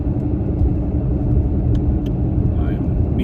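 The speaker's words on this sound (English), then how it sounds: "Methinks it's a wheel bearing." Worn wheel bearing on a moving Oldsmobile Alero, a steady loud low rumble and drone that holds evenly from inside the car throughout, with no talk over it.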